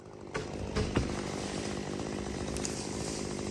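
A chainsaw cuts through a live oak trunk in a steady, droning roar at moderate distance, with a few brief knocks near the start and no talk.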